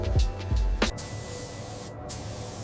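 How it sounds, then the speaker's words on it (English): Spray gun laying black paint onto a 1947 Harley Knucklehead motorcycle tank, a steady close airy hiss with a few short bursts and pauses at the start. "We are applying the final wet coat now, giving it that deep, glassy finish."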